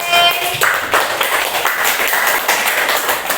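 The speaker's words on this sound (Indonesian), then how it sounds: "Mana tepuk tangannya anak-anak?" Schoolchildren clapping their hands in a classroom, a fairly loud and busy patter of many small hands that keeps going steadily without talk.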